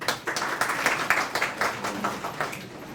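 An audience claps at a talk event honoring a speaker, a moderate steady patter of many hands lasting a few seconds, slightly uneven in intensity.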